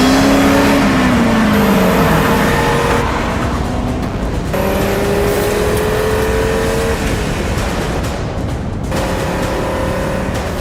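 An Audi RS3 five-cylinder engine revs loud and close, pitch rising and falling through repeated pulls and gear changes, a steady, dense roar throughout with no talk.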